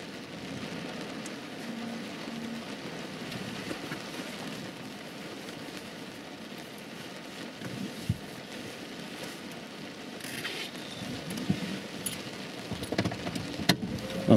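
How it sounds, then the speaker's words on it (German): Rain falls during a thunderstorm, a soft, constant hiss with occasional louder spatters and drips, fairly quiet and steady throughout. "Wenn der Regen jetzt gleich nachlässt"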